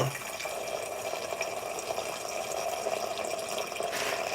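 Filtered alkaline water from a home alkaline system pours steadily into a container, a continuous trickling splash held at even loudness throughout, heard alone without talk.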